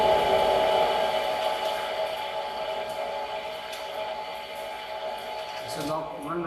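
Torsion testing machine slowly twisting a mild steel specimen, a steady even mechanical hum and whine running throughout, with a person talking over it.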